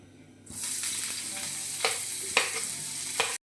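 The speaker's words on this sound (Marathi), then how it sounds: "तेल तापलेलं आहे, त्याच्यामध्ये मी आलं लसूण आणि मिरची हे बारीक कापून घेतलेले ते टाकते" Finely chopped ginger, garlic and chili hit hot oil for a Chinese-style tadka, bursting into a loud, steady sizzle that holds close and continuous, with a few sharp spatula scrapes against the pan, then cutting off abruptly.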